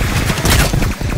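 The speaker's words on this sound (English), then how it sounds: "Stop shooting me!" Rapid bursts of gunfire in the video game Cycle Frontier, loud overlapping shots in quick succession with a player's voice shouting over them.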